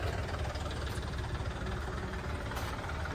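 A low, steady tractor engine idles nearby with a rumbling, slightly knocking drone that holds constant throughout.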